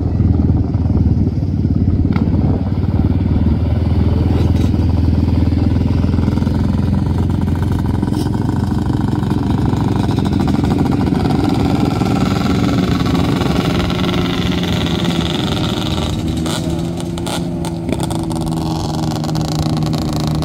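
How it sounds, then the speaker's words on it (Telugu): Motorcycles ride and rev across open desert in Kuwait, a dense, continuous engine drone with rising revs toward the end, loud and close, with faint voices now and then. "వాడు బండి లేపుతా అతి వేగంగా పోతున్నాడు"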